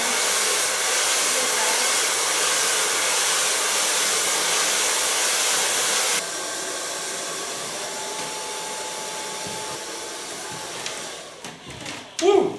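Hair dryer blowing continuously on hair styled with a large brush, a loud steady rush that drops to a lower setting midway, ending with brief handling noises and a voice.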